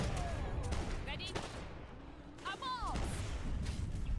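Scattered gunfire crackles in the video game Age of Empires 3 during a campaign battle, sharp bursts mixed with game sound effects while a voice talks over it.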